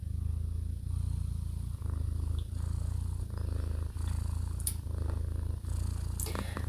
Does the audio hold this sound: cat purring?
yes